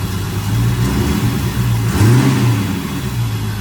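A Corvette engine runs steadily at a low, rumbling idle, with a brief rise in pitch partway through as the car is put in drive and moves with its brakes sticking.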